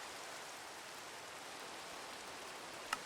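Rain falls in the game Minecraft as a faint, even hiss that holds steady throughout, with one small sharp tick near the end.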